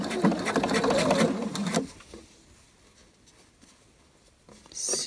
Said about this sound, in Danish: Og så syr jeg en kantstikning.